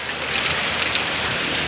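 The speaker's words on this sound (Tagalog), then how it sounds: "talagang talaga ulan" Heavy typhoon rain pouring down steadily, a dense continuous hiss of drops striking surfaces, close and loud, with no voices.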